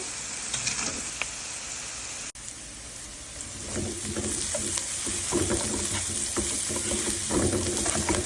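Turmeric, cumin and other ground spices fry in a pan for a simple zucchini and squash stir-fry, giving a steady close sizzle with scraping stirs; a brief dropout near the start, then the frying grows slightly louder, with no talking.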